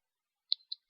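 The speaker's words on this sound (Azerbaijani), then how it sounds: "bir dəfə tıklayıram və sonra OK düyməsini basıram" Two sharp computer mouse clicks, close and fairly quiet, about a fifth of a second apart, with silence before and after.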